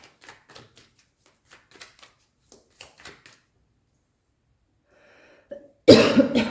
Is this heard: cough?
yes